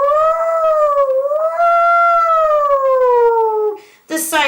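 A voice imitates a siren, a loud wailing tone that rises and falls smoothly for several seconds before breaking off into a brief noisy burst.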